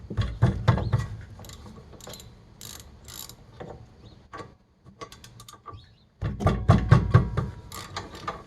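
A ratchet removes the 13mm caliper bracket bolts on a 2008 Chevy Malibu during rear brake work, with rapid close clicking in bursts, a short pause, then louder heavy ratcheting with metallic clanks.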